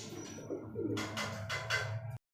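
Racer pigeons coo close by, a low soft throaty burble with a few brighter fluttery bursts near the end, brief and quiet with no voices.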